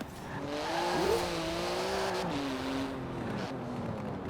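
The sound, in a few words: 3.8-litre twin-turbo flat-six sports car driving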